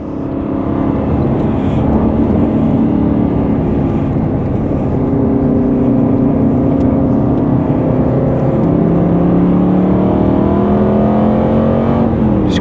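CTR Aston Martin Vantage BTCC race car heard from inside on track, its loud engine droning and rising through the revs with gear changes, steady and close.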